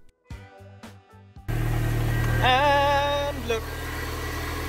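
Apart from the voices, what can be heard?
car engine left running, idling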